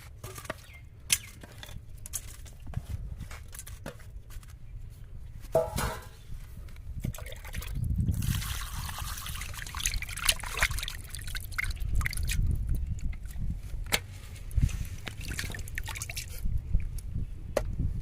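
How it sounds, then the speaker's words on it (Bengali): Cut rupchanda fish being washed in water, with continuous splashing, sloshing and dripping that swells and fades over several seconds, close and moderately loud. "মাছটা আমি ধুয়ে নেবো এবার"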